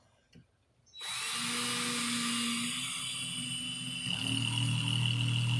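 A cordless drill whirs steadily at close range, its pitch shifting partway through as the motor strains and the clutch, set very light, slips so the chuck stops spinning, with no voices.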